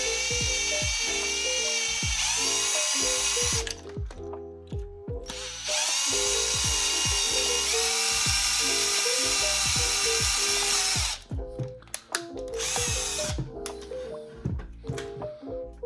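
A power drill whines loudly in long bursts while drilling at a 45-degree angle into a plastic Neutrona Wand prop, stopping and restarting several times, with brief clatter and handling noise between runs.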